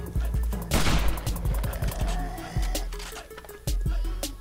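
Gunshots in the survival game 7 Days to Die: a string of sharp, loud single reports fired at irregular intervals over four seconds, with a few heavier booms standing out.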